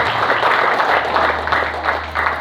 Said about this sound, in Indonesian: tepuk tangan yang meriah untuk Bapak Haji